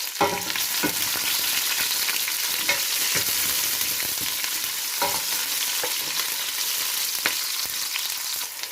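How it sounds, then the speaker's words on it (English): Green chilies and onion frying in a pan for a sambar, giving a steady, loud, close sizzle with scattered crackles and a few stirring knocks, and no one speaking. "just a couple of green chilies as well. That will give a nice flavor. So just fry that for a few minutes."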